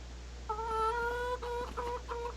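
Chickens in the farming game Farming Simulator 25 give a run of clear, nasal clucks, several quick calls in a row, close and alone over a steady low hum.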